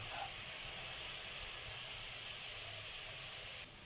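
Steady, fairly quiet hiss and sizzle of pounded chili and garlic stir-frying in a hot pan, continuous with no talking.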